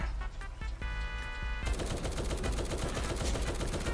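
Rapid gunfire in the Roblox game War Tycoon, a dense automatic burst that runs continuously and loudly throughout, with a louder heavier stretch after the first moment and no speech.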